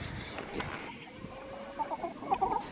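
Chickens in a backyard citrus grove cluck softly in short, scattered bursts, fairly faint against quiet outdoor ambience.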